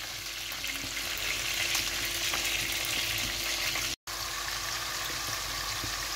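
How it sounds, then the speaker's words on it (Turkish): Long chip-style potato strips fry in hot oil in a home kitchen, giving a continuous close, even sizzling hiss that cuts out for a moment partway through. "Patateslerimiz kızgın yağda."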